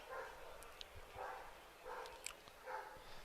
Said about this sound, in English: a lot of dogs here tonight